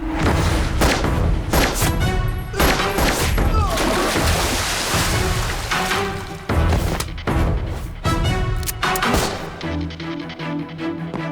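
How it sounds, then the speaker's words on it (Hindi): Gunfire and explosive blasts from a Hindi-dubbed action film starring Ram Pothineni: dense, loud volleys of shots and heavy booms crash in rapid succession, with shouted voices mixed into the chaos. "इस हरामी को गोली मारो"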